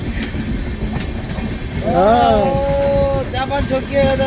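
A train rumbles and clatters slowly along at close range, a sustained tonal whine rising over it and voices speaking nearby.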